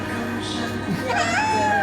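A cat meows while its claws are being trimmed, a drawn-out, rising and bending cry over a steady background, with a voice talking nearby.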